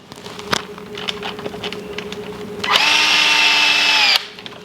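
A cordless power drill runs in one steady burst of about a second and a half, fastening the lower trailing arm to the rear axle of a Losi Super Rock Rey RC truck, after soft clicks and handling noises.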